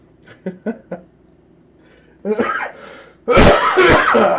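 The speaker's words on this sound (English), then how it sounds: "You might hear me coughing a lot" Several short coughs and throat-clearing sounds, first soft and spaced, then louder, harsher coughing bursts close to the microphone.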